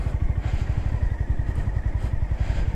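A 2025 Honda GB350S single-cylinder motorcycle pulling in second gear from low revs, a deep rapid thumping exhaust pulse, steady and close, with wind rush over it.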